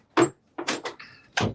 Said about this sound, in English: Let me grab this door.